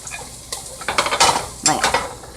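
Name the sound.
onions frying, stirred in a skillet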